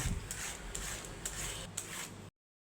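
Ridge gourd being scraped to strip off its fibrous ridges, a steady series of close, dry rasping strokes with brief louder scrapes, no voices.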